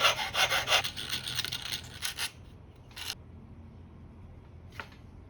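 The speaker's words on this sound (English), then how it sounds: "The first major surgery I did was to shorten the lead pipe by cutting it with a jeweler's saw." A jeweler's saw cuts through a brass trumpet lead pipe in quick, rasping strokes, close and crisp, then stops and leaves a few isolated scrapes and clicks against a quiet background.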